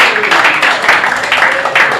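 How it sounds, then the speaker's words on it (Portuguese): A church congregation at a preaching service applauding joyfully, rapid dense clapping in loud surging waves across the whole moment, close and full. "e as palmas bem alegres para Deus"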